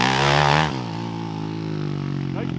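A Honda TRX 450er ATV engine revs hard and close, its steady harmonic drone dropping in pitch after a brief high-RPM burst, then holding a rough idle.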